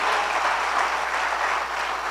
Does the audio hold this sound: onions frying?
no